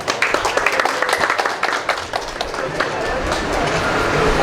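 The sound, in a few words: audience applause welcoming guests at a health camp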